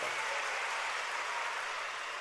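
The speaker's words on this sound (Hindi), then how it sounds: "इतनी बड़ी व्यवस्था जिन्होंने की है, उन सारे कार्यकर्ताओं के लिए जोरदार तालियां हो जाएं" A large crowd at the Godri Banjara Kumbh gathering claps for the volunteers, a continuous, even wash of distant applause with no distinct individual claps.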